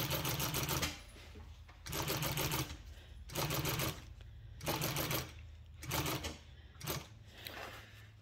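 Sewing machine stitching golf cart seat cover material, bursts of rapid mechanical needle chatter about a second long separated by short pauses, close and loud.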